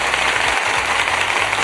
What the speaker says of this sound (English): Let me get some applause to this great family here